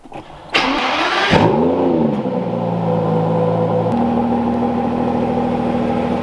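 An Aston Martin in pearl red paint starts with a sharp crank and bark, rises in a revving flare, then settles into a steady burbling idle that shifts pitch once, close and loud.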